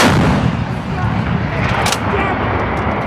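An M777 towed 155 mm howitzer fires during a live-fire drill, a single loud blast opening the clip and rolling into a long rumbling echo, with crew shouts around it.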